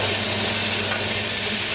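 Chicken frying in a pan gives a loud, steady sizzle that holds throughout with no speech over it.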